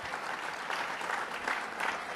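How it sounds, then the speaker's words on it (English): An audience in Staten Island breaks into steady, sustained applause, dense clapping that stays fairly even for a couple of seconds without voices rising above it. "Let's give him a big round of applause."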